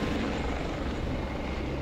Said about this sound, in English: Landing on uneven ground, the helicopter can only drop